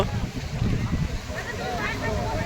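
Wind gusts and waves on the seashore at Digha, with a steady blustery rush and a low surf roar. There are no clear voices.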